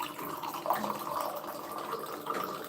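Water running steadily from a household tap, a continuous hissing wash at moderate level with no speech over it.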